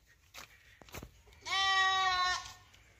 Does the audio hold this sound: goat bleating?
yes